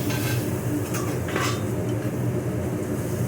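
A pan being shaken on the stove as soy sauce sears with sesame seeds nearby, producing a steady sizzling hiss with a couple of metallic scraping slides, loud and close, no speech.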